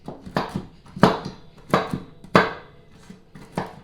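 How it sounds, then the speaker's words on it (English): A knife chops pecans on a cutting board with a quick, uneven run of sharp close knocks, some strokes louder than others, with no voice over them. "So we can start with chopping the pecans."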